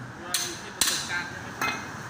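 A hammer strikes a ball joint on an Isuzu All New pickup's upper and lower control arm suspension: three sharp, loud metallic blows spaced under a second apart, ringing briefly in a workshop.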